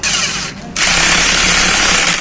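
Power tool tightening a wheel nut on a Piaggio Ape auto-rickshaw, a loud, steady buzzing whir that pauses briefly and then runs on without a break.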